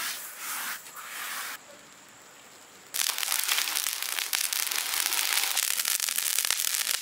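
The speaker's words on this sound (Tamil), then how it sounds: "உப்பு பார்த்தீங்கன்னா நல்லா சூடாயிடுச்சு, சட சடன்னு வெடிக்குது." Rock salt crackles and pops as it heats in a heavy pan, a dense burst of sharp snapping after a quieter pause, loud and close.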